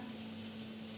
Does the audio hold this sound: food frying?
yes